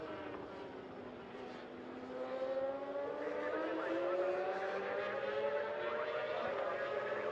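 SS600 racing motorcycles scream around the track in ARRC 2024 practice in Japan, their high engines rising and sweeping as bikes pass, with a commentator talking over the continuous engine whine.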